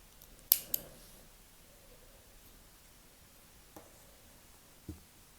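Scissors cut leftover yarn in a quiet room: two quick close snips, then two more isolated snips a few seconds apart.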